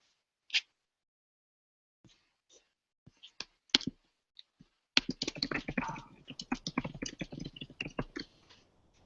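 Keys clatter on a computer keyboard, a few sparse isolated clicks at first, then a dense rapid run of typing, close and crisp.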